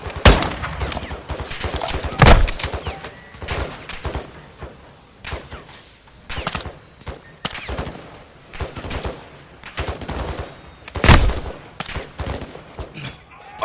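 Gunfire from the Call of Duty Modern Warfare 2 video game rattles almost without pause in loud, dense automatic bursts, with heavier blasts standing out.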